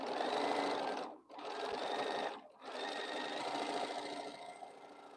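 A sewing machine stitches quilt segments for a boho heart quilt, running in steady, whirring stretches broken by two brief stops before the motor picks up again.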